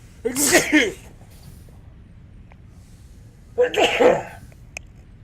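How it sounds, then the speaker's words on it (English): Two loud, close sneezes from one person, each a sharp burst about three seconds apart, with near-silence between them. "I had to sneeze."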